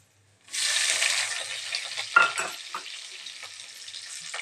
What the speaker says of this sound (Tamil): இப்போ வந்து நம்ம வெங்காயம் ஆட் பண்ணிக்கலாம்.